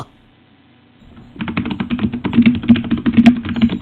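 Rapid computer keyboard typing during the Dance Mat Typing game, with brisk, close clicking keystrokes that start after a second of near silence and continue in a dense, uneven stream under soft music.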